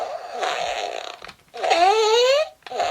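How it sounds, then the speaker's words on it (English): Power Rangers Boom Tower key toy plays a fart sound effect: two raspy, blaring bursts from a small toy speaker, the second longer and rising in pitch, with a brief third burst starting at the end. "Apparently Boom Tower farts, I guess is what they're going for."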